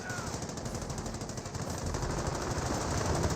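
An M2 heavy machine gun fires in Company of Heroes, a World War II strategy game, as a sustained rattling burst. It sits in a dense, steady wash of battle noise, with no voices.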